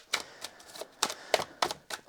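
A deck of tarot cards being shuffled by hand, a run of quick papery riffles and rustles in separate bursts, close and fairly quiet with no talking.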